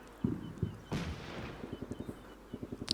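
Gunfire and explosions in the tactical war game Combat Mission Shock Force 2, with a few muffled blasts followed by a faint rapid string of shots, low in level and somewhat distant.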